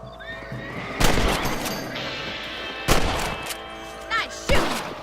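Rifle gunshots fired at rabbits in the Western video game Red Dead Redemption, a few sharp loud cracks spaced apart, mixed with a horse whinnying and snorting nearby.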